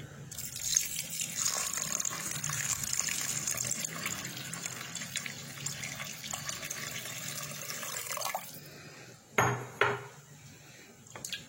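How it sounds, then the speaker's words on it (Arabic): Water poured into a cooking pot for tripe, a continuous close splashing stream that stops partway, followed by a couple of clanks of the pot. "كنعملو الماء الكافي باش طيب، ومن الاحسن يكون الماء دافي"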